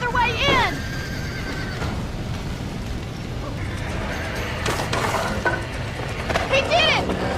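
Horses neigh and whinny in a burning barn in the video game Red Dead Redemption, with several shrill, rising cries over crackling noise and a clip-clop of hooves, while voices shout in the background.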